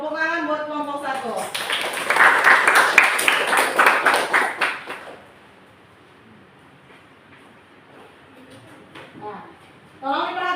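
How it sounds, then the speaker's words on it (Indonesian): A classroom of students claps for a group for several seconds in a dense burst that quickly fades, with talking just before and again at the end. "Tepuk tangan buat kelompok 1"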